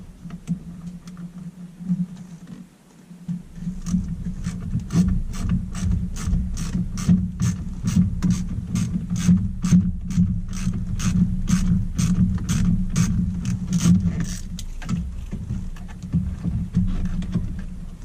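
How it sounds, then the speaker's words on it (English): Rapid ratchet clicks from a hand tool backing Torx screws out of a car steering wheel during an NRG wheel install, a close steady run of regular ticks after a brief quiet start, fading near the end. "Okay, so it looks like we got two Torx. You gotta get these Torx out."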